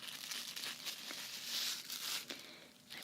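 A Super Bowl themed koozie crinkles and scratches steadily up close, with bursts of brighter crackling texture and no talking.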